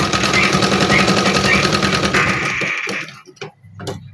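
Sewing machine stitching bedsheet pieces, a busy rhythmic whirr for a few seconds that breaks into short bursts and stops.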